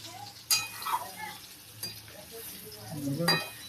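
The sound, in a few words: potatoes frying in a pan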